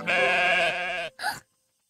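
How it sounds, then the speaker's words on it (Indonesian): A sheep bleats in a long, wavering, harmonic call, followed by a short second bleat, close and loud, then silence. "Domba."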